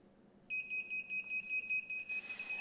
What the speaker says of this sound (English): this one is going to beep until you eventually pull this up